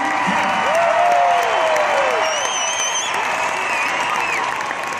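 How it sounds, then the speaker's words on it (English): A junior hockey arena crowd at an Edmonton Oil Kings game applauds and cheers after a goal, loud and continuous, with whistle-like tones sliding over the din. "Let's give one more round of applause for number 15, Andrew"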